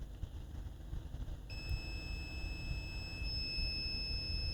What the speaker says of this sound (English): This coil is beeping to ground